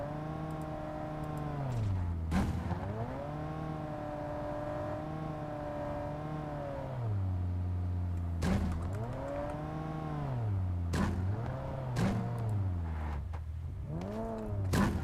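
A vehicle engine in a battle royale video game tournament match drones loudly, its pitch rising and falling repeatedly as the car accelerates and eases off. Sharp bursts of noise punctuate it, and no one speaks.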